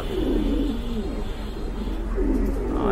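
Pigeons coo in a continuous low, throaty warble at a busy pigeon market, several birds layered close and steady throughout with no voices over them.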